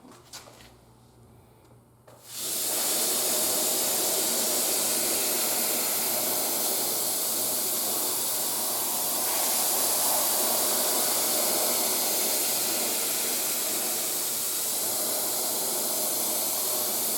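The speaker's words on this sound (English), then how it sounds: "I'm going to go ahead and use the Steam Shot to see if it cleans up any more." A Steam Shot steam cleaner hisses on a car interior, starting abruptly after a quiet moment and then holding a loud, continuous close-up jet of steam with no talking.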